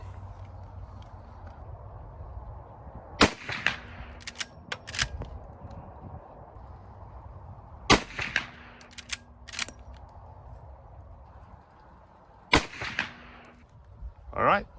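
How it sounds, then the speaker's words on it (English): A Winchester 94 Trapper lever-action rifle in .44 Magnum fires a three-shot group at a 100-yard range. Three loud, sharp reports are spaced several seconds apart, and each is followed by the clack of the lever cycling, over faint ambient background. "Okay, we're gonna try one more 3-shot group."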